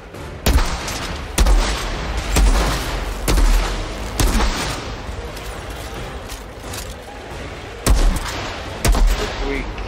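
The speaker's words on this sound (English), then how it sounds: "Keep shooting, they won't make it." Gunfire in the video game Outriders: repeated heavy, booming shots in irregular bursts, loud and punchy, with a steady rumble of action filling the gaps between them.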